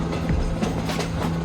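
Train rolling past at the Strasburg Railroad, a loud, steady rumble with rhythmic clattering of wheels on track and a sustained low hum, close by.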